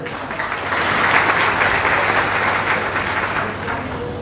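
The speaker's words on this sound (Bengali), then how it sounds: "সুতরাং আপনাদের নিজেদের জন্য একটা বড় হাততালি হয়ে যায়" A meeting audience at a district political coordination gathering applauds, steady crowd clapping that swells slightly and holds at an even level with no talk over it.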